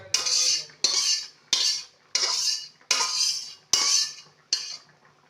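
Fish curry of bhetki with cauliflower and potato ladled into a bowl holding ghee and garam masala, seven separate clattering, splashing scoops in a steady rhythm, close and fairly loud, with no talking.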